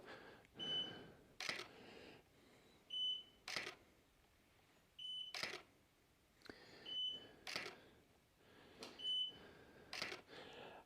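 A Godox studio flash emits a short high beep each time it fires during a portrait shoot, repeating roughly every one to two seconds alongside the bursts of the flash, with quiet talk in the room.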